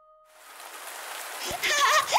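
Steady rain pours down and hisses softly, and children are playing in it. Closer drops patter and splash over the final second.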